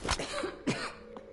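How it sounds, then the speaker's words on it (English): In Metro Exodus, a game character gives a couple of harsh, close coughs followed by a fainter throat-clearing sound, with no speech. "I can't deal with hearing that cough all the time."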